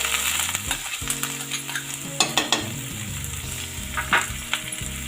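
Chopped onion frying with chopped garlic in a hot pan for a bottle gourd curry, a steady close sizzle broken by a few sharp scraping stirs.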